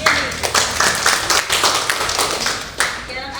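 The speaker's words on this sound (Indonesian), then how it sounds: "Tepuk tangan untuk Adriani." A short burst of applause from a small group of schoolchildren in a primary classroom, with scattered hand claps that rise quickly, trail off, and then pick up briefly once more.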